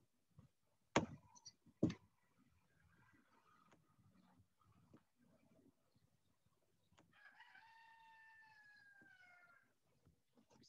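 A rooster crows once in a long, clear, drawn-out call that follows a couple of sharp knocks and faint background noise, fairly close and with no talk over it.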